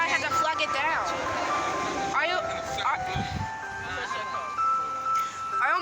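An ice cream truck plays its chiming jingle melody outdoors, steady and fairly loud, while people talk over it and a vehicle rumbles low underneath.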